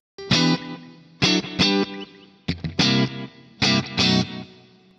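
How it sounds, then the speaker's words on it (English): Clean electric guitar through a Fractal FM9 modelling a Fender Bandmaster amp, set super clean: four bright strummed chord phrases with rich harmonics, each ringing out briefly before the next, played alone and loud. "I've got a super clean based on a Fender Bandmaster, which is the band commander, uh, and it sounds a little bit like this"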